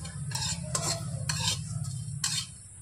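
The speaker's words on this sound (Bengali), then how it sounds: "এবার নাড়াচাড়া করে মশলাটা ভেজে নেব।" Whole cumin, coriander and fennel seeds fry in oil in a pan while being stirred. Several scraping stir strokes come in bursts over a steady low sizzle, close and fairly quiet.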